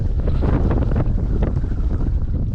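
A strong storm wind blows at sea during shore fishing for sea bass. Heavy gusts buffet the microphone over the constant rush of rough water, loud and continuous.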